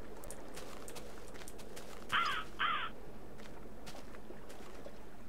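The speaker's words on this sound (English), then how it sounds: "That bird looked really big for a moment there." Two loud harsh caws from a large bird in the game Minecraft (Technic modpack), close together and standing out against a steady ambient hum.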